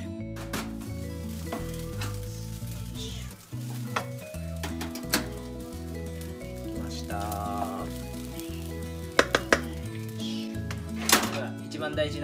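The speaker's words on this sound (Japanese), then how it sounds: "適当に切った人参と玉ねぎです。 じゃあ炒めていきたいと思います。" Chopped carrots and onions stir-frying in a pan for butter rice, a steady close sizzle with occasional scrapes and clinks of utensil against the pan, and a voice talking over it.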